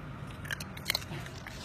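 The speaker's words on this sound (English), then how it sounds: "Someone has a crunched up peppermint." A child crunching a peppermint: a few brief, faint, crisp crunches and cracks against soft background noise, close by, with no talk.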